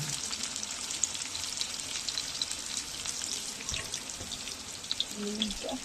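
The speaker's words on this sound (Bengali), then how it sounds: "আলু পেঁয়াজ একসাথে ভাজবে, দেখতে থাকুন।" Potatoes and onions fry together in a pan, a moderate, even sizzle with scattered crackles and a few brief clinks of stirring, heard fairly close.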